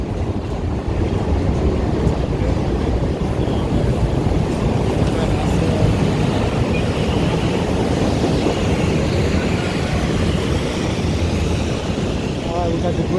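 Elevated trains rumble overhead along Wabash Avenue near Adams Street in downtown Chicago on a rainy day, a loud, continuous, roaring clatter that fills the street while someone talks over it.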